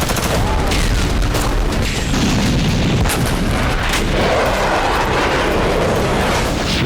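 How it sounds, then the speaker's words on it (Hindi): Heavy, continuous barrage of explosions and artillery-like booms from missile strikes in the Russia-Ukraine war, loud and dense throughout with no pauses. "रूस एंटी टैंक मिसाइलों से हमले कर रहा है।"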